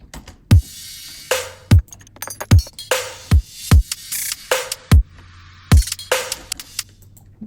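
A dark trap drum beat plays alone: sparse, hard kicks with booming low tails and crisp hi-hat and snare hits, the pattern thin at first and punctuated by short bursts of noise.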